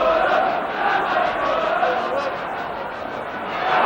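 Football crowd at Craven Cottage, Fulham, roaring as Fulham draw level, a broad, sustained wall of cheering and chanting that swells and ebbs, with voices carrying over it.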